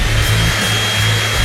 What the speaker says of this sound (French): il suffit de le souffler avec une sèche-cheveux